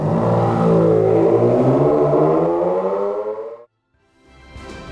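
Fernando Alonso's sports car, putting 657 Nm to the rear wheels, revs loudly and close in a long rising engine roar, then cuts off abruptly before a quieter idle returns.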